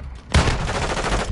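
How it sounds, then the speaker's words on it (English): A shotgun blast in Call of Duty Modern Warfare 2, a sudden loud boom after brief quiet, followed by a dense rumbling tail of gunfire and battle noise. "Damn, I shot him pretty close."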